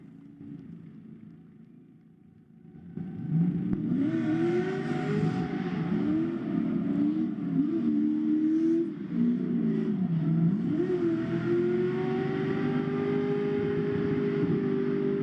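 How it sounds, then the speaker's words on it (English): Drift cars warming up with burnouts at a pro drift series event rev and wail at a distance. After a quiet opening, the engine noise swells into a sustained, wavering roar with repeated pitch swings. "Nice little smoke cloud there from everybody doing the burnouts and warming up."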